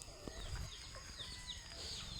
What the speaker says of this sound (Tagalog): Ayan papakain tayo ng manok